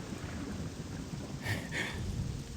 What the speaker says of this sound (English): That thunder sound effect is not quiet